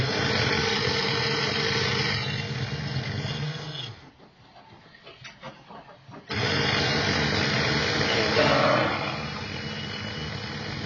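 A Tyco slot car motor whines steadily on a dyno with a continuous buzzing drone. It cuts out for about two seconds midway, then spins back up at the same strength.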